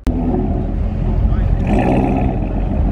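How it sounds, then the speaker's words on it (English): A car engine with a stock exhaust idles and rumbles nearby on a street, a low, burbling exhaust note that swells slightly, while people talk over it. "that's a stock exhaust. Listen to that. That sounds so good"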